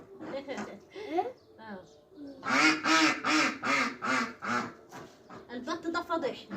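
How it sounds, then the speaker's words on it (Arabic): Ducks on a rooftop quack in a loud, rapid run of harsh calls that repeats in bursts, close by, with a person speaking before and between them. "البط ده فضحني واكل شبعان يصوت"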